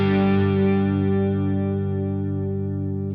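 A sustained electric guitar chord passes through a Walrus Julianna chorus/vibrato pedal set to high depth, its loud, shimmering pitch wobble ringing out steadily and slowly fading.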